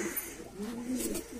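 Pigeons cooing close by in a backyard loft, soft low throaty coos rising and falling in repeated phrases with a faint higher chirp, no talking.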